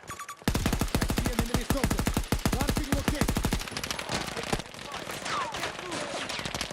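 Light machine gun firing in the video game Battlefield 6, a long rapid string of evenly spaced loud shots that gives way to a denser, rougher exchange of gunfire, with a voice heard faintly over the shooting.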